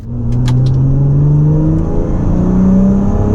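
A scuffed Toyota Supra with a new suspension and tyre setup revving hard on a UK race circuit, a loud close engine climbing steadily in pitch with a few faint high chirps at the start.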